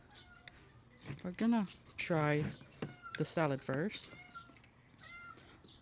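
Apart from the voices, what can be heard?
cat meowing in the background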